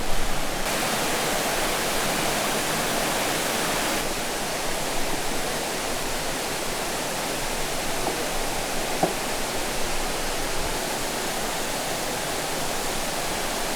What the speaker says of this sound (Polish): I wodospad na Mułęk już jest przed nami.